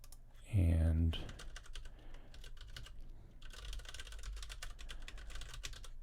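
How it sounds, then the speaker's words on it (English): URL typed on a computer keyboard: a steady run of close, crisp key clicks following a short tonal beep, with faint background hum and no talking. "type in our URL here"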